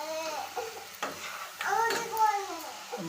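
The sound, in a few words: chicken curry spices frying in pan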